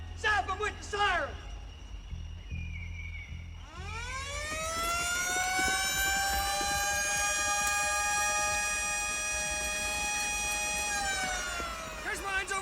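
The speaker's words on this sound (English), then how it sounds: "Zap him with the siren!" A film scene with a voice shouting briefly over low rumble, then a loud siren winds up and holds a long steady wail before cutting off, with another voice at the end.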